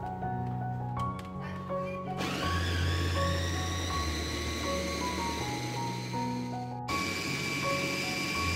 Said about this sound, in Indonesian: Kemudian chopper hingga nanasnya halus.